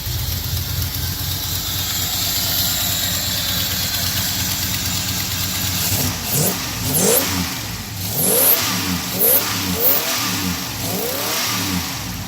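Yamaha Blaster with a fresh ignition coil and untuned EFI idling roughly at first, then revved in a series of sharp, uneven throttle bursts, close and loud.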